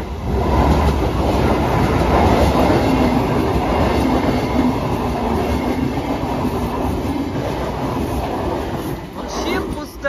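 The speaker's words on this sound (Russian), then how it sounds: "Тут можно вот поезда так и заставать." A train passes close by, a loud sustained rush of wheels and rail noise with a clattering texture that fades slightly toward the end, heard outdoors.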